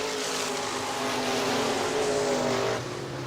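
IMCA Modified race cars battling in a pack off turn 4 at Hartford Speedway Park, Hartford, Michigan, engines roaring and droning steadily as they pass, then fading slightly at the end.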